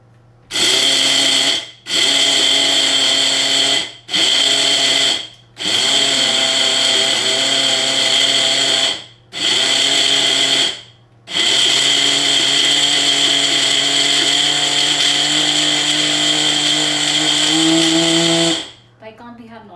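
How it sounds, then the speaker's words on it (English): A blender whirs loudly in several bursts, grinding oats into powder, starting and stopping, its high grinding motor pitch shifting slightly as the oats break down. "the oats which we are going to now blend in a blender and make a nice powder"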